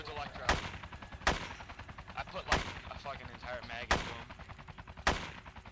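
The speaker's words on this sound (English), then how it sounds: "The shot's coming from everywhere at that helicopter." Gunfire at a helicopter in the video game DayZ near the Clock Tower in Chernogorsk: five sharp, loud gunshots spaced about a second apart, with softer background crackle and rumble between them.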